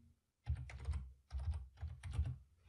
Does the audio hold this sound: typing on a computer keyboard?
yes